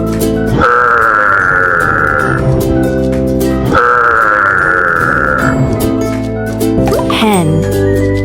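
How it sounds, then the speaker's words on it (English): Low, rough giraffe grunts sound between two long, steady tones, with music playing throughout. "Giraffe."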